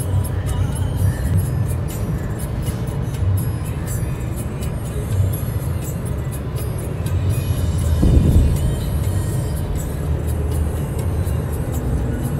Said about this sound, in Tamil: இப்போ நைட் டைமில் டிரைவ் பண்ணிகிட்ருக்குறோம்